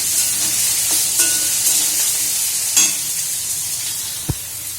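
Potatoes for aloo bhaja frying in very hot oil in a pan while being stirred, a continuous close sizzle broken by scraping strokes and a sharp knock near the end, with no voices.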